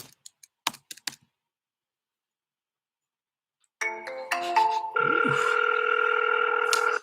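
An outgoing phone call: a few sharp taps, then a pause, then electronic tones that settle into a steady, fairly loud ringback tone lasting several seconds.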